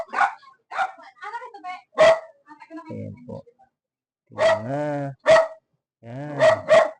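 A household dog barks in short bursts at home while someone tends a fish tank, the barks sitting close and loud between stretches of a person talking.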